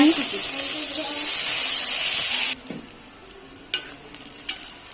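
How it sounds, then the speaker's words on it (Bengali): Chopped onions frying in hot oil with sugar and bay leaves, a loud bright sizzle that cuts off sharply after a few seconds, followed by scattered spoon scrapes and clicks of stirring. "পেঁয়াজটাকে লাল লাল করে ভেজে নিতে হবে"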